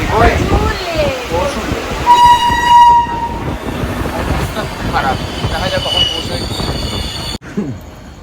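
A train halted near Dum Dum at night, with steady carriage rumble and wheel squeal, a sustained horn toot partway through and a sharp clank near the end, under people talking close by.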